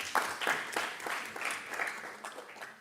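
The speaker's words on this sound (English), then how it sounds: "Another round of applause." An audience at an international cancer conference session claps after a presentation, a moderate round of scattered individual claps over a soft applause wash, with no one speaking over it.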